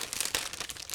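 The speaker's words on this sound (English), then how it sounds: "I'm opening another plastic bag." A plastic bag from a 1/48 scale B-26B Marauder model kit is opened close up, giving a steady, dense crinkling with small sharp crackles throughout.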